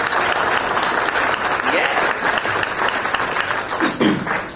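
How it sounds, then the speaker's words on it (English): Audience applause fills a white coat ceremony hall, steady and sustained for several seconds, with a few voices calling out over the clapping. "Let's give them a hand clap, guys."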